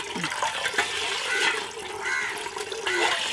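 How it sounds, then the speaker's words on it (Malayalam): Water pours into a pot while making a sweet taro snack, a continuous splashing gush with gurgling swells that stays loud and close throughout, and no voices heard. "കുറച്ചുകൂടി വെള്ളം ആ വെള്ളം ഒഴിക്കട്ടെ"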